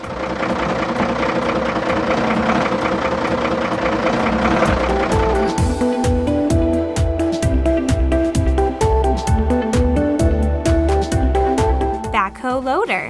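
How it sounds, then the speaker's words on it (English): A garbage truck's heavy diesel engine rumbles and knocks at idle, a low, rhythmic chugging that stays loud and close, with a brief mechanical noise near the end. "Garbage truck."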